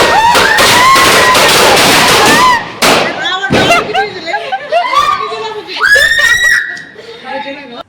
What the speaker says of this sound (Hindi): बिजली बम को एक बॉक्स में डाल के उसमें ना फुलझड़ी छोड़ दी थी, और वो इतने भयानक तरीके से जला